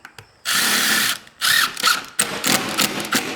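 A power drill drives pole barn screws while a walk-in chicken coop is built, several short bursts of whirring at close range, the first one long, the rest choppy and broken by brief gaps.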